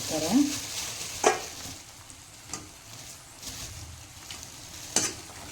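Cauliflower (gobi) frying in a pan with spring onion for gobi fried rice: a soft, steady sizzle broken by a few sharp spatula scrapes and taps, with no talk.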